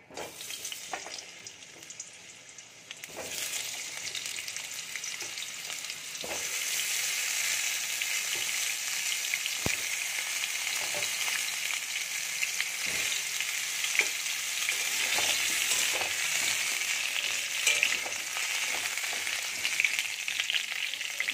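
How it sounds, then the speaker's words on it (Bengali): Potatoes fry in hot oil; after a quieter opening moment, a steady, moderately loud sizzle takes over and holds, broken by scattered small pops and crackles. "তেলটা গরম হয়ে গেছে, আর আলুটা ভেজে নেব।"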